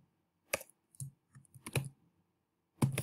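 Keys click on a computer keyboard during Excel formula entry, a few sharp, close, irregular taps separated by short pauses in a quiet room.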